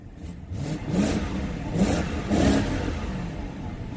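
BMW car with a stock exhaust revved in a few short bursts, each rise in engine note fading back toward idle, moderately close and fairly quiet, no talking.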